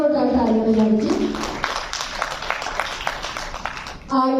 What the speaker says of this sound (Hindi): लेडीज एंड जेंटलमैन, प्लीज एक बार जोरदार तालियां बजाइए।